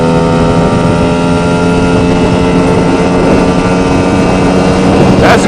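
A Lambretta scooter fitted with a Simonini 260 engine revs hard at around 6,000 rpm in fourth gear climbing straight up a hill, a loud, steady, buzzing two-stroke drone with strong harmonic whine throughout.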